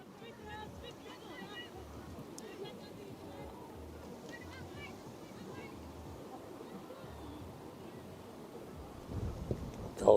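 Gusty wind buffets the microphone at Avatiu Field, an outdoor football ground, during a women's match. A steady low rumble carries faint distant voices and swells into a stronger gust at the end.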